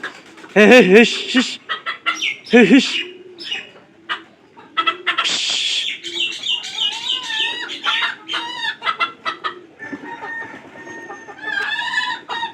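Several chickens cluck and call nearby in a village yard, loud and overlapping, with a rooster-like squawk near the start and busy farmyard chatter throughout.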